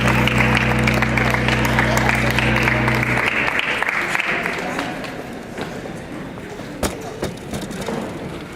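Applause from an audience at a community MLK breakfast, a broad steady wash of clapping that fades over several seconds into scattered claps and room noise.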